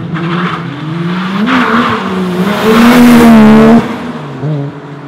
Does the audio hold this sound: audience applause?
no